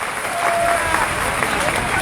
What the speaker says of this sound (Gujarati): જોરદાર તાળીઓથી અમને વધાવી દે.